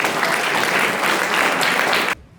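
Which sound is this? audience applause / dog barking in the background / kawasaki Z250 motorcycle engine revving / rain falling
audience applause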